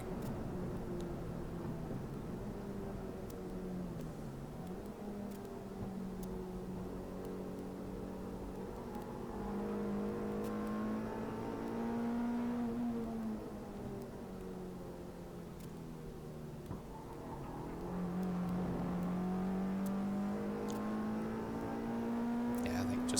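A Peugeot 106 on-board at Goodwood Motor Circuit, its engine droning steadily near the mic with rising and falling pitch as it struggles for traction out of a chicane; someone talks over it throughout.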